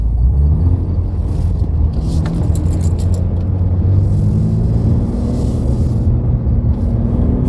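A BMW G80 M3 fitted with an AWE Switchpath exhaust and high-flow catted downpipes drives along, its deep, loud engine drone and rumble steady throughout, with a faint metallic jingle on top and no talk.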